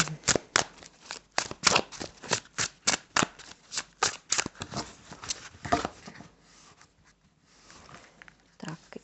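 Cards are shuffled repeatedly, a run of quick riffling bursts in steady rhythm, close up, then tapering into softer handling sounds.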